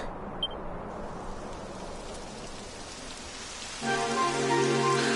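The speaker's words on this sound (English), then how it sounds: "Typical. It would have to go and start raining, wouldn't it?" Steady rain pours down in the fantasy RPG Dragon Quest XI, a dense, even hiss that continues throughout, with a sustained musical tone joining near the end.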